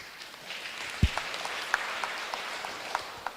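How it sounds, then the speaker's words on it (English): Applause for interpreters at a parliamentary public hearing on older persons, steady scattered clapping from a gathered audience with a few sharper claps standing out. "we give them a round of applause"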